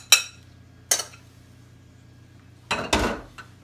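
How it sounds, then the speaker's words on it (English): Cheesecake crust mixture dumps into a pan in a home kitchen, giving two short clinks near the start and then a heavier, longer scraping clatter near the end, close and fairly loud with quiet gaps between. "So what I'm gonna do, I'm gonna dump all this in the pan here"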